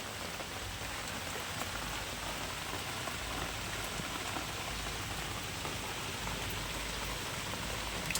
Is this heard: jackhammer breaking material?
no